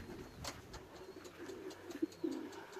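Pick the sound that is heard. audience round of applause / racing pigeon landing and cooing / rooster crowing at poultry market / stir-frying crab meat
racing pigeon landing and cooing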